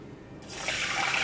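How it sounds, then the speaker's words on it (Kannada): Water suddenly starts pouring and splashing as rice is rinsed before soaking, a short burst of running, trickling water, close and moderately loud. "ಅಕ್ಕಿ ನಾನು ನೆನೆಸಿಡ್ತೀನಿ ತೊಳೆದ್ಬಿಟ್ಟು"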